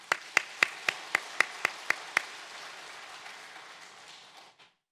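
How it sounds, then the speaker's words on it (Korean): Church congregation claps in time, about nine sharp, evenly spaced beats in a reverberant sanctuary, followed by a softer wash of scattered clapping that fades out. "우리 박수 한번 하십시다."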